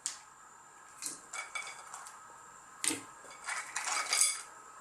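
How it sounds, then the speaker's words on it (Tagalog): Cooked crab (alimasag) goes into a metal cooking pot for a misua and patola soup, making a series of close clanks and scraping clinks of utensils against the pot in uneven bursts, with no voices. "ilalagay na po natin yung ating cook alimasag"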